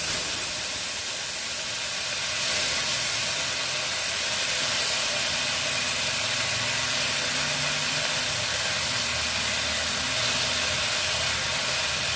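Ginger and green chili paste with salt sizzles in hot oil in a pan for a soybean and potato curry, a steady, close, dense hiss with no voices.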